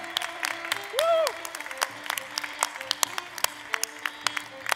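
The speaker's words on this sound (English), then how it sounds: "Big round of applause for Shelter." Applause for a startup team named Shelter at a demo day event in Barcelona, moderate and steady with scattered sharp claps, under a voice calling out and a brief whoop.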